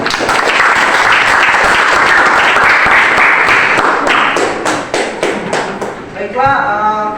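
Grade 10 students in a classroom at SMA Negeri 1 Tapa break into loud, dense applause lasting about six seconds, then the clapping fades as a voice begins speaking.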